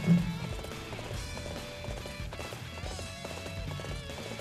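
A galloping horse in the Dynasty Warriors 8 Xtreme Legends game, its hoofbeats drumming at a quick, steady pace under a dense layer of battle noise and game music.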